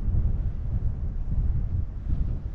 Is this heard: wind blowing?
yes